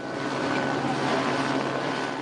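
A steady, dense rotor and engine roar fills the air without pause, loud and constant, as a police helicopter passes close overhead during a street protest.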